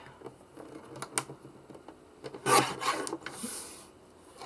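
A paper folder being trimmed along one side, with a dry rasping, rubbing cut that swells briefly into a louder scrape midway before fading, heard up close without speech.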